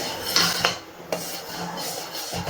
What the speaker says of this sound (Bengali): একটু নাড়াচাড়া করে নিচ্ছি।